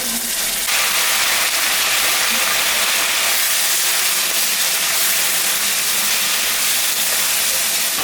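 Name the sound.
ginger, cumin and chilli paste sizzling as it is added to the pan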